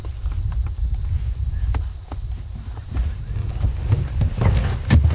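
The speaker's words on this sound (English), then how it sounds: "It sounds like a mole cricket," A lone mole cricket calls steadily from a hole on an evening African safari drive, a continuous high pure trill over low rumbling vehicle noise and faint distant background sounds.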